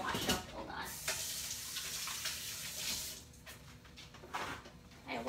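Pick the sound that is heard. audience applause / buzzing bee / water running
water running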